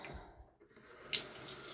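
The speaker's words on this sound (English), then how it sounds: "turn on my sink." Bathroom sink tap being turned on, faint splashing of running water that cuts off briefly and then resumes as a steady, quiet flow with a small clink.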